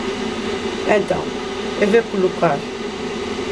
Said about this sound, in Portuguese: Desculpem o barulho da maquinazinha, mas é que estou fervendo a água